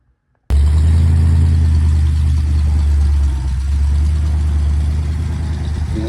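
1974 Ford F250 truck engine starts abruptly after silence and runs with a loud, steady low rumble close by, its tone shifting slightly partway through.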